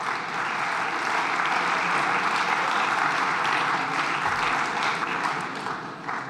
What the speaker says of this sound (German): Da dürfen die Herren ruhig klatschen.